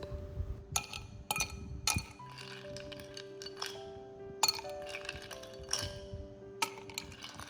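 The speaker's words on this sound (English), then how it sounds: "Put the ice cubes." Several ice cubes clink and clatter into a glass over tapioca pearls, one after another, sharp bright chinks with short ringing tails, close by with no talking.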